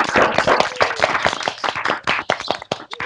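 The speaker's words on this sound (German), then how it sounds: "einfach dem ganzen Porsche-Team, der es die Woche gerockt hat, einen kleinen Applaus geben." Scattered clapping from several people over open microphones on a Porsche team video call, uneven and overlapping hand claps for about three seconds with no talk.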